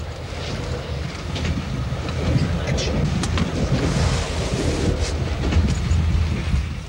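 Inside a moving passenger train travelling through Yugoslavia, a steady rumbling roll fills the carriage with faint rhythmic clickety-clack from the wheels and occasional sharper rattles, continuous and fairly close.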